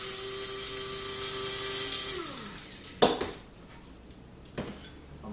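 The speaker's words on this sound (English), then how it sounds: "I'm putting all my spices together back in the grinder and just sort of mix all that up" A spice grinder whirs through spices mixed with vanilla seed, a steady motor hum that winds down after about two seconds, followed by a few sharp knocks and clacks of the grinder being handled up close.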